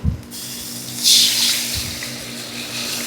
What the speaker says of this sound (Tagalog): maglalagay na tayo dito ng tubig natin